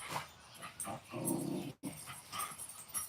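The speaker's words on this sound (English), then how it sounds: "she barks and she growls at people" A pet dog growls and whimpers in several short bursts, close and fairly loud, with a brief silent break partway through.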